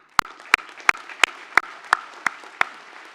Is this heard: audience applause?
yes